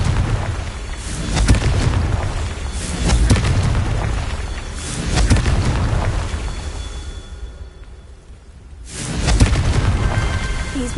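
Confringo blasting spell explosions in Hogwarts Legacy, a series of four heavy booming blasts spaced a couple of seconds apart, loud and close with rumbling tails between them.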